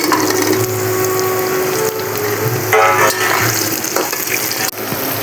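Mango pieces sizzle in hot oil with crushed garlic for a mango pickle, a loud, steady close-up frying hiss broken by a few clinks and scrapes of a utensil, with no talking.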